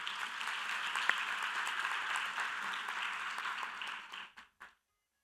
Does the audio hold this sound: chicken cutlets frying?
no